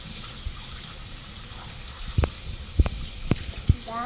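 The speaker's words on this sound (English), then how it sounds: "Let's wash your hands again" Tap water runs steadily while a child washes hands in a home kitchen, a soft continuous hiss broken by a few sharp clattering knocks near the sink.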